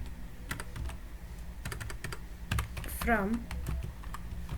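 Computer keyboard typing as an SQL query is entered during a tutorial on BETWEEN, IN and NOT operators, scattered key clicks running under a steady low hum while someone briefly speaks.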